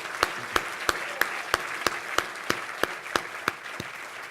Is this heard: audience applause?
yes